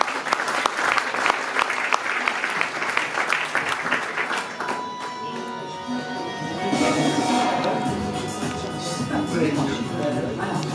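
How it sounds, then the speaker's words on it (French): An audience applauds at the presentation evening for the 19th Nuits-Saint-Georges night half marathon, with dense clapping at first that gives way to voices and background music while the applause continues. "On peut l'applaudir."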